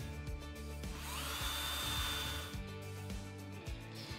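A drill drives 3.5-inch star-drive deck screws into wood for a floating deck frame, a steady whirring hum with rhythmic pulsing thumps as each screw bites, continuous and fairly close.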